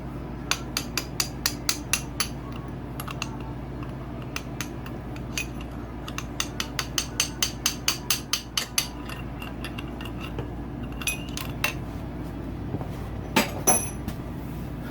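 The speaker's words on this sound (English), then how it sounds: "I'm just going to use a round punch and just gently give it love taps on the other side and knock the pin" Metal punch tapped with a hammer to drive the piston pin from a piston on a Yamaha YZ250 two-stroke motorcycle engine during a rebuild: many quick, light, evenly spaced clinks in steady runs, close by over a low workshop hum.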